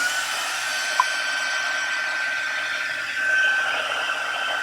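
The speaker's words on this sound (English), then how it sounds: "now I'm going to take my heat tool and melt this embossing powder." A heat tool melts copper embossing powder for card making, giving a steady, close, airy blowing hiss with a thin whine on top that swells slightly toward the end, with no talk over it.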